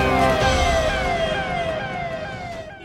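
An ambulance siren wails loudly in a packed Patna traffic jam, its rising and falling tone sweeping steadily over a dense rumble of nearby vehicles, slowly easing in volume.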